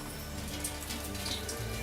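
Rain falls steadily indoors with water dripping into basins set out to catch leaks, a continuous soft patter of drops with a low rumble underneath.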